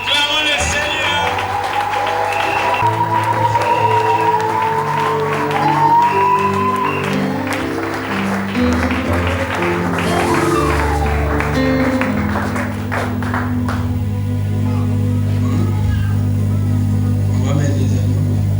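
Wedding congregation at a French-language church ceremony clapping and cheering, with sustained applause and crowd noise alongside singing or music and voices throughout.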